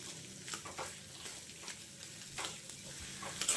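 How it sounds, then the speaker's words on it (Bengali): Potatoes with salt and spices being stirred and fried with a spatula, soft intermittent scraping strokes over a low sizzle, faint and close with no talking. "দিয়ে আলুটা আমি খুন্তি দিয়ে এভাবে নেড়ে চেড়ে কষিয়ে নেব"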